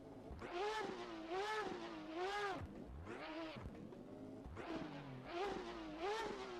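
A racing car engine in the rFactor 2 video game revs up and down in repeated sweeps, high-pitched and screaming, each rev rising and falling in a steady pattern.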